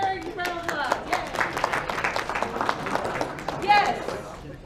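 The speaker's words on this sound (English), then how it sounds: "Give Heather a round of applause." An audience applauds for Heather, a brief spattering of hand claps that fades quickly, with a voice speaking over it.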